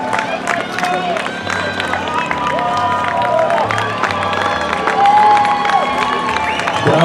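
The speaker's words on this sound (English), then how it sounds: "Crowd going nuts for Mother Schwarzy from West Lebanon" Spectators at the finish of the Covered Bridges Half Marathon in Hartford, Vermont cheer, shout and clap continuously as runners come in, with an announcer talking over the lively crowd and whistles and yells rising near the end.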